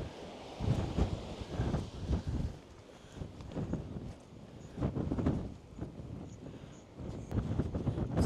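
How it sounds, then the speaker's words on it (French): Gusty wind buffets the microphone on the open moorland of Culloden Battlefield in Scotland, rising and falling in loud rumbling surges with no speech. "Vous entendez le vent?"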